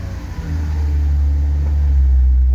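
A turbo BMW E36 with a slipping clutch revs as a loud, deep rumble that swells and holds steady while sitting in first gear with the handbrake on.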